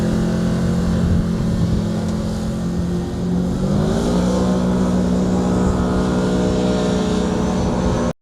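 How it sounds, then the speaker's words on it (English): Kawasaki ATVs pull away together on a muddy festival ride-along course, a loud continuous engine drone that rises in pitch as they accelerate, holding steady before cutting off abruptly at the end. "And here we have the Kawasaki ride-along. It's on ATVs."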